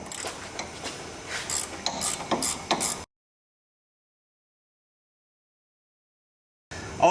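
A wrench ratchets as a Moog sway bar link nut is tightened on a Ford Crown Victoria, a close series of quick metallic clicks for about three seconds, then silence, then a brief burst of mechanical noise.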